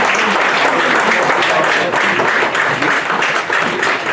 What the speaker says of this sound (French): Alors, on les applaudit encore une fois, mesdames et messieurs, les 8 candidates.